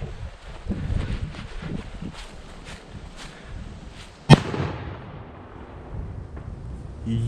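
A single sharp New Year's Eve firework bang bursts out mid-clip over steady wind near trees and distant crackling pops, its echo trailing off afterward.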